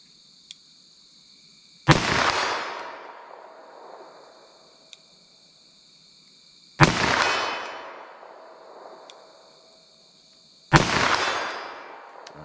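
Three loud handgun shots from a .357 Magnum or .327 Federal Magnum revolver firing hand-loaded Hornady XTP rounds, each a sharp crack with a decaying ring, spaced several seconds apart, with no talking between them.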